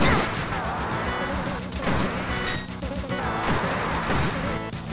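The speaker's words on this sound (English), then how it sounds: "So you see the hook shot, I don't have to be right up in its face to attack." Hookshot attacks in the Zelda Classic quest Hyrule's Resurrection, heard as dense, continuous retro game effects: repeated clanking, zipping hits and crashes that keep coming over a busy backing track, loud and unbroken.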